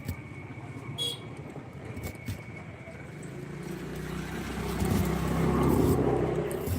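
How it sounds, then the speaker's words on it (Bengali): Roadside traffic outside a shop, with engines droning steadily and building louder toward the end, and a few faint knocks and clicks earlier on. "গাড়ি ঘোড়ার আওয়াজ হবে"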